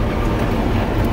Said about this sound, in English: I'm out here chisel plowing this